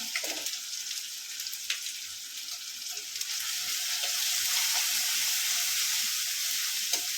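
Curry leaves, asafoetida, tomato and green chili tempering in hot oil for a spiced roti dish: a softer sizzle at first swells into a louder, steady frying hiss, with a few faint stirring clicks.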